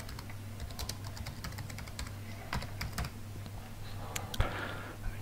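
Keys clatter on a computer keyboard in quick, irregular bursts of close, crisp clicks over a low steady hum.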